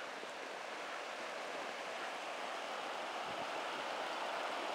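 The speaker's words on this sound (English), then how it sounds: "The river." Broad, steady rush of river water flowing past at a ranch, a continuous even wash with no breaks and no voices heard over it.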